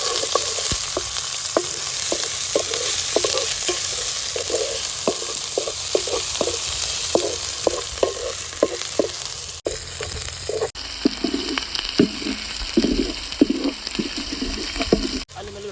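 Onions and green chillies sizzle steadily in hot oil for a prawn fry, with frequent spatula stirs and scrapes clacking in an irregular rhythm close by, loud throughout with no voices.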